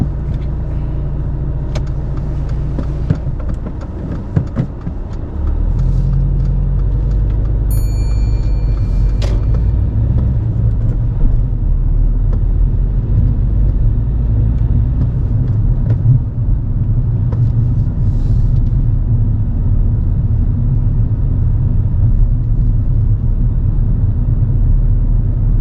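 A car pulls away from a roadside stop on a driving test, its engine a steady low rumble that swells as it moves off and then holds a constant road drone, with a few brief higher clicks early on.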